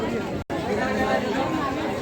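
Dense murmur of a huge crowd chattering at Bhimashankar temple, many voices blending into a steady, close babble with a brief dropout near the start.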